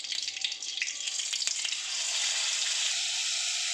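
Koi fish coated in ginger, onion, garlic and green chili paste frying in mustard oil, a loud close sizzle that swells into a steady, dense hiss about halfway through, with a few crackles early on.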